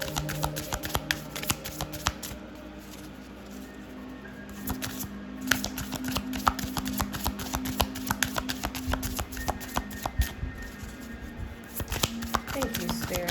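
Tarot cards being shuffled by hand in a quiet room, a steady run of soft riffling flicks and slaps repeating through the whole stretch, with a low background hum beneath.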